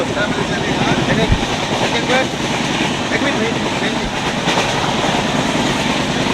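The Sabarmati Express (19167) running between Ayodhya and Varanasi, heard from inside a carriage as a loud continuous rumble and rattle with clattering wheels, a voice talking over it.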